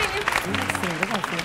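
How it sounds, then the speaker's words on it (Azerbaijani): Studio audience applause at an Azerbaijani TV game show: a brief, steady patter of clapping that sits under a host's voice. "Alqışlar, xayiş edirəm, alqışlar"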